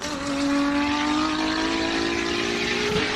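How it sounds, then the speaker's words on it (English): A race car at the Simola hillclimb drives past with its engine screaming at high revs, a loud sustained tonal howl that holds steady for several seconds. "What a sound! That car actually shook our commentary box."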